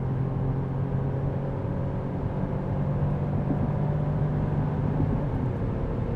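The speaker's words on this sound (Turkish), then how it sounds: "Tam gaz oturdum arkadaşlar." Alfa Romeo Junior Ibrida Speciale under full throttle, a steady, loud engine and road drone with a constant hum and no gaps throughout.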